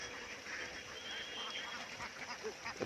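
Ducks quack faintly in a harvested paddy field in the early morning, scattered calls from a flock at a distance over a soft, steady outdoor background.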